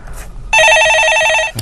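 An office telephone for a live call-in stock-market show rings with a loud, steady electronic trill lasting about a second, then cuts off sharply as the call is picked up.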